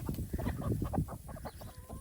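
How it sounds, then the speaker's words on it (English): Several backyard hens clucking busily as they peck at grapes, a dense overlapping chorus of short low clucks, close and continuous. "I think there's enough chickens there that"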